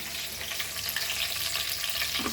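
Marinated pearl spot fish, Goan style, frying in oil with curry leaves makes a dense, steady sizzling hiss throughout, fairly close and with no voices over it.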